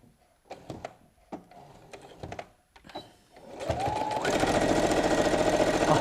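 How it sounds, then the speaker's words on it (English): A sewing machine starts after a few soft handling clicks and taps, then runs loud and steady as it stitches along the raw edge of fabric to form a tube for a picnic tote. "I'm just going to sew along the raw edge to make like a tube"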